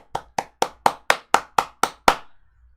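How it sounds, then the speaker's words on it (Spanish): Nine sharp, evenly spaced claps ring out close and loud during a church service, a steady rhythm about four per second ending with a short trailing echo. "Así que hoy aplaudo."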